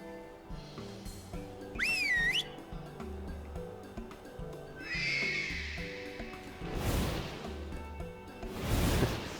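Two rising-and-falling electronic whistle tones from Final Fantasy XIV: Stormblood sound separately over soft game music, followed by whooshing bursts.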